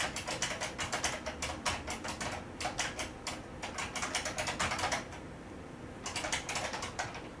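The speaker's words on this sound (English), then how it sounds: "how does the keyboard sound?" Rapid clacking of computer keyboard typing, close and loud, coming in quick bursts of keystrokes with a short pause before resuming.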